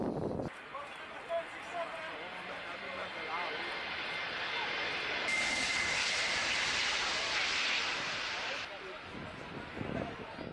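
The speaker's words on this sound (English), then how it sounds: "Let's see how this pilot handles the landing of the Antonov Tu-25." An Antonov aircraft landing in a crosswind, its engine roar steady and loud throughout, swelling in the middle, heard without talk.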